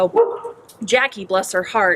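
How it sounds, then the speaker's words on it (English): A dog at a rural bed and breakfast ranch barks and yips a few times in the background, mostly buried under a person talking close by. "I apologize for the dog in the background."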